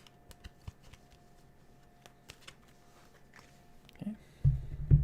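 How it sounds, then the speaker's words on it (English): Healing code cards from a body deck are shuffled, giving soft riffling and tapping ticks that build to a louder, fuller riffle burst near the end, close by with no talking. "I'll give it another shuffle"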